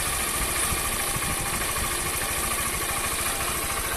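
Honda 160 motorcycle engine running steadily after a loose valve was adjusted, a continuous close idle with even mechanical pulsing and no talk.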